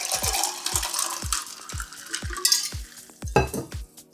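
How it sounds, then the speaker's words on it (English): Carbonated drink with ice is poured out of a Ninja mug, giving a fizzing sizzle broken by a regular series of sharp ice clinks, close and moderately loud. "Let's pour some of this carbonated drink out of here."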